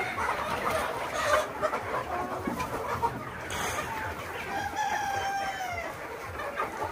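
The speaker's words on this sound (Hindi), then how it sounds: "अब आइए हम आप लोग को डायरेक्ट ये हार्वेस्ट किए हैं इसको हम दिखाते हैं कैसे मुर्गियाँ खाती हैं इसको" Desi hens clucking as they feed on freshly harvested azolla on a farm, a steady chorus of close clucks with a rooster crowing partway through.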